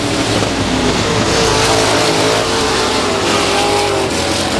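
Race cars roaring around South Texas Speedway during a race, a dense continuous engine drone with shifting pitch as cars pass, loud and steady throughout with no talk.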